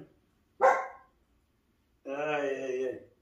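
A dog gives two barks close by, a short sharp one followed about a second later by a longer, drawn-out bark-howl, with silence around them.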